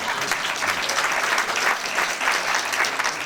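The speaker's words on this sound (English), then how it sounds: "stop clapping" An audience applauding at a speaking event in Israel, dense steady clapping throughout, close and loud, with no break.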